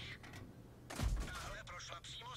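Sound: tank cannon shots in World of Tanks video game

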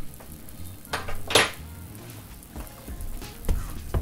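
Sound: mashing boiled plantains with butter in a pot

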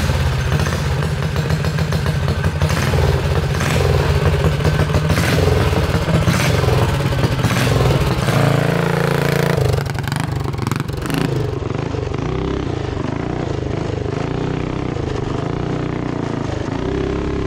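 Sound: Tillotson 212 engine bike revving and running

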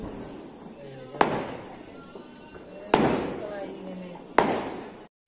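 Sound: firecrackers bursting during Vishu celebration

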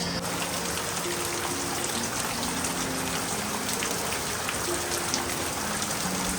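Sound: rain falling

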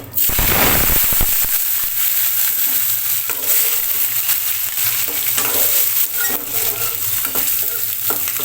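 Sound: boiled potatoes stirred and frying in oil

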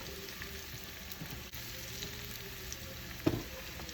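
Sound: red chili powder sizzling in tempering oil

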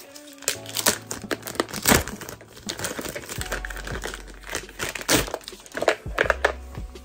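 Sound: crinkling clear plastic bag packaging being unwrapped

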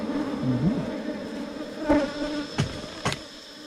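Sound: buzzing of ground-nesting bees at their nest

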